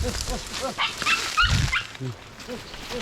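A pack of nine hunting dogs yips, whimpers and barks in short repeated bursts in a forest, some near and some farther off, with people talking over them.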